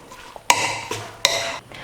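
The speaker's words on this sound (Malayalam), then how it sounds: "ഇനി ഇതെല്ലാം കൂടെ നന്നായിട്ട് മിക്സ് ചെയ്ത് കൊടുക്കണം." Spoon clanking against a metal bowl while beef is mixed with spice powders, salt and vegetable oil for pickle: two sharp bright knocks, each trailing into a ringing scrape, with quieter taps between.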